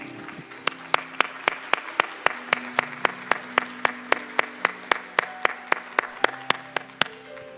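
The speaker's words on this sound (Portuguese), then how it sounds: "Isso, vamos aplaudir." Slow, evenly spaced claps from an audience at a Catholic worship gathering, a steady rhythmic beat of about three claps per second over a soft sustained background tone, moderately distant.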